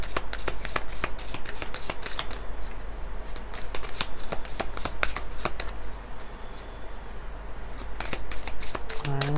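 Tarot cards are shuffled continuously at close range, a dense, busy run of crisp riffling and flicking snaps that lasts throughout at steady loudness.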